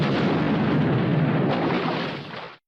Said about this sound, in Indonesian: Wekung sukses menaklukkan Pokwong dan kabur sebelum bomnya meledak